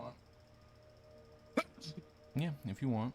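A single sharp sneeze bursts out during a tabletop role-playing game session, standing out briefly before people resume talking close by.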